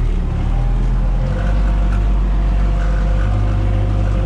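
An MTZ 892.2 tractor ploughing a garden plot with a PLN-3-35 plough gives a loud, steady, close-up engine drone with a low rumble throughout, and no voices.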